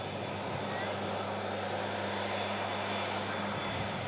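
Aircraft engine roar from a plane passing during plane spotting, a steady broad rumble with a faint tonal hum, while a voice speaks over it.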